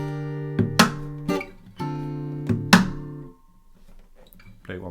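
Acoustic guitar playing the second measure of a song, a few strummed chords with percussive slaps standing in for kick and snare, close and clear, ending in a brief quiet pause.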